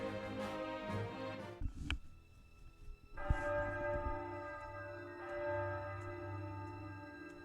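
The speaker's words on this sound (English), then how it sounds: "That's the bell at Ironstone." Church bell at Ironstone in the video game Triangle Strategy, tolling in sustained resonant strikes that ring out and decay, with a few distinct peals over soft background game music.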